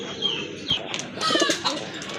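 A pair of Lalpatti pigeons cooing softly in short throaty notes, with faint chirps and a brief wing flutter, close and fairly quiet.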